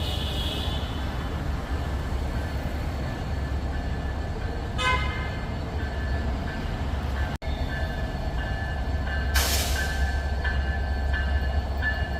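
A long train in Bangladesh rumbles past steadily, with a horn toot partway through and another bright horn blast near the end.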